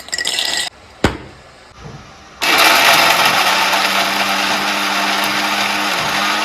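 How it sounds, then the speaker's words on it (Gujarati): A few clinks and a short thump, then a mixer grinder roars to life and whirs loudly and steadily as it grinds cashews and almonds. "કાજુ ને બદામને આપણે આ મિક્સરમાં મિક્સ કરીને જ છીએ"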